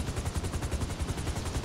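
Rapid automatic gunfire from GTA 5 Online, a dense burst of evenly spaced shots running steadily and loud for under two seconds, with no voices.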